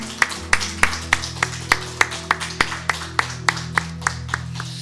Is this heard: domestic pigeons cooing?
no